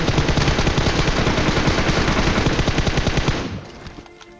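Sustained automatic gunfire from PUBG Mobile, loud and close, a rapid unbroken stream of shots for over three seconds before cutting off into a fading tail.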